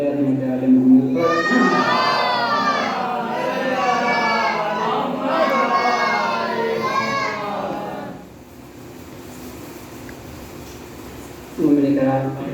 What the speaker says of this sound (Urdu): بلند ترین صلوات پڑھے رحمت علی محمد پر